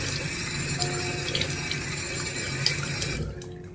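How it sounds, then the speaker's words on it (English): A tap runs steadily into a sink as a face is washed with cold water, a close, even splashing hiss that cuts off near the end. "I'm just going to wash it with cold water."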